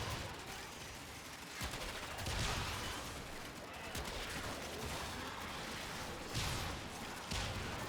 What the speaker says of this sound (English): Fiery explosions.